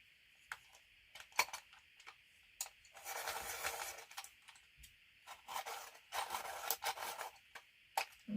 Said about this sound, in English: I'm going to sharpen my white because I'm going to need a sharper point.